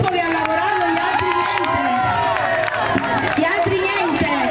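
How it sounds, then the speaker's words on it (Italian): An audience applauds and cheers for a youth group at a 2013 World Youth Day gathering, a loud, dense wash of clapping, shouting and crowd noise, with voices over the din. "Un applauso a questo gruppo che ha lavorato"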